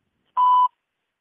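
An IVR phone system sounds a single short, clear electronic beep tone, heard alone against silence.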